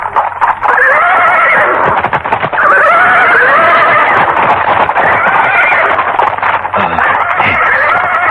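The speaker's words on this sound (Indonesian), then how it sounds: "Kenapa kuda-kuda jadi ribut?" Several horses neigh restlessly in loud, overlapping whinnies that repeat again and again. Faint hoof clip-clop runs underneath.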